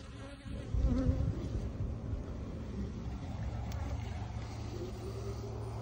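Honeybees buzz inside a jar during a spring hive inspection, a close, steady muffled hum that swells briefly near the start and then holds at an even level.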